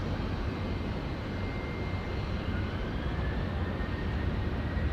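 A Qantas airliner, flight 148, powers down the runway at Auckland Airport on takeoff, a steady broadband jet roar with a faint rising whine, loud and continuous throughout.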